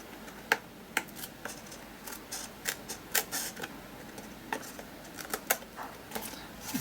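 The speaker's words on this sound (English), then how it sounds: "just grab a pair of scissors and I'm just going to go around the edge, just trimming off the excess of that book text" Scissors snip around the edge of a paper book-text cutout for a mini art journal page, giving scattered sharp clicks and short crisp cuts at an uneven rhythm, close and fairly quiet with no talking.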